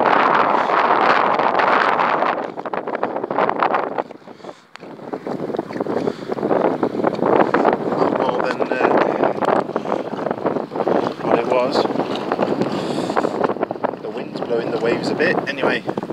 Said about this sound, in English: You can hear me with the wind.